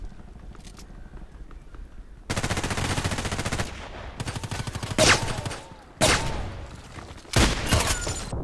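MP133 pump-action shotgun firing in the online shooter Contract Wars, several loud gunshot bursts spaced a second or so apart with clattering pump and scrape noises in between, no talking.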